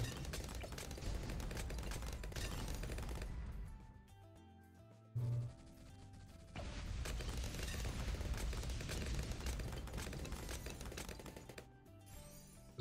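Sniper monkeys firing rapidly in the Bloons TD tower defense game, a dense stream of sharp gunshot-like cracks over game audio, dropping out briefly midway before the rapid fire resumes.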